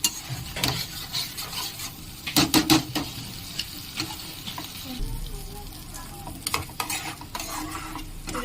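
A spoon stirs paneer masala gravy in a pan, giving repeated close scraping and clattering strokes over a continuous sizzle, with faint sounds of a person in the background.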